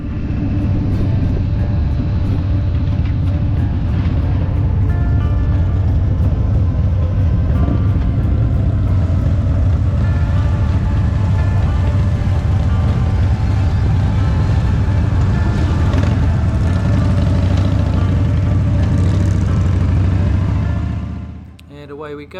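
Group of motorcycles streaming past a rider parked at a corner on a summer ride toward Waiwera, a continuous loud engine rumble sustained for about twenty seconds before dropping away abruptly at the end.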